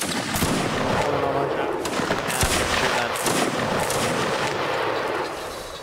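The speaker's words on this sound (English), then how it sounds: "Present and fire at will." Musket volleys in a Mount & Blade multiplayer battle, dense crackling gunfire from many rifles overlapping in bursts, loud and sustained, with voices shouting underneath.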